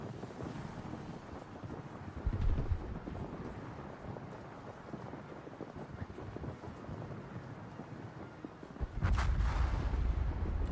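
Naval artillery salvos from warships in the World of Warships game, heavy booming blasts rising out of a constant windy, rumbling sea background, with two louder bursts standing out, one early and one near the end.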